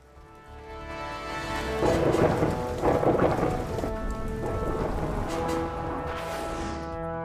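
Steady heavy rain pours throughout while deep thunder rumbles and rolls, building loud in the middle before easing slightly.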